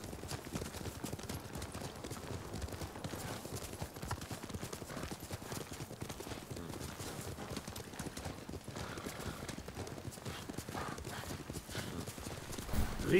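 Horse hooves clip-clop at a steady gallop through the video game Ghost of Tsushima, a brisk, even rhythm of hoofbeats running continuously and fairly close, at moderate volume.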